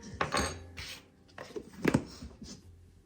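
A tablespoon scrapes and scoops shortening out of a dish while making gluten-free, dairy-free sugar cookies, giving several soft clinks and rubbing scrapes close by, with no voices.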